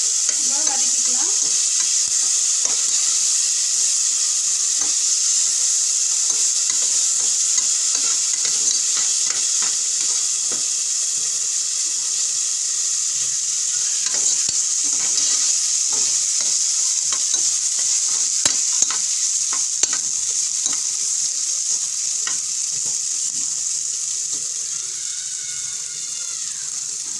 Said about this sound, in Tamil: இஞ்சி பூண்டு 2 டேபிள் ஸ்பூன் போட்டு நம்ம நல்லா வதக்கிக்கலாம்